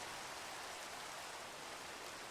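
Dense, steady rain in the video game Skyfactory 3 hissing evenly without pause, a broad wash of falling water with no voices.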